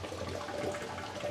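Rainwater runs steadily through a 3D-printed rain water filter with fine mesh, a continuous close splashing, trickling rush during heavier rain.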